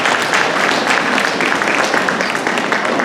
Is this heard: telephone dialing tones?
no